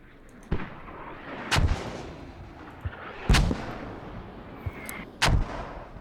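Mortar artillery fire in a video game booms in four sharp, heavy blasts spaced about a second and a half apart, with fainter distant thuds between them over a low background rumble.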